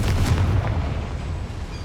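The Confringo blasting spell explodes in Hogwarts Legacy with a loud, deep boom at the onset that rolls into a heavy rumbling decay over about two seconds, with no voices.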